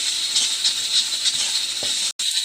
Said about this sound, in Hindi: सफ़ेद तिल को फ्राई करेंगे।